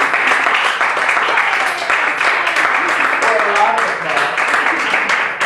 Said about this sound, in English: I think we should give you a little applause.